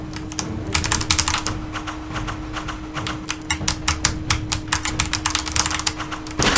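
Rapid computer keyboard key presses during keyboard play of the action game Shield Impact, an irregular run of sharp, close clicks and clacks over a low steady hum and game noise.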